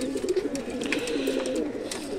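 A pigeon coos in a steady rolling burr, close and clear, with no talk over it.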